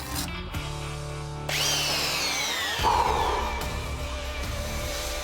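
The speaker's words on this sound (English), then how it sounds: "Never has the mighty roar of a belt sander been so welcome." A belt sander fitted with a coarse sanding belt works on wood, starting with a sudden loud, steady roar that holds with a grinding, scraping texture at close range, after quieter tool noise.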